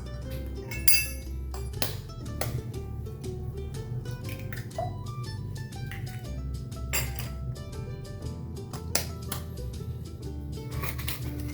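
Glass and kitchenware clinks with small wet, squishy sounds while eggs are prepared in a bowl for pad woon sen. The scattered taps and knocks sit over a steady low background hum.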